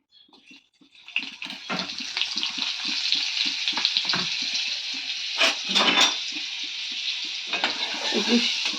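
Chicken marinated in lemon juice, black pepper and salt fries in a pan with a little butter, giving a steady close sizzle broken by a few clinks and stirring scrapes, with no talking.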